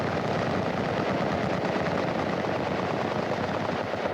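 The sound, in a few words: rifle fired on a training range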